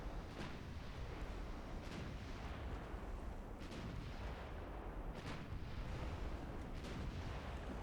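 Naval gun shells fire in the Ultimate Admiral Dreadnoughts warship game, several deep booming blasts spaced a second or more apart over a rumbling battle background, with no talk.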